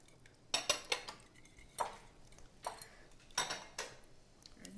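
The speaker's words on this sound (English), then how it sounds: "why don't you start scrambling your eggs with a whisk?" Eggs being whisked in a bowl with a metal whisk, giving a few scattered clinks and taps against the bowl at low volume, with gaps of quiet between bursts.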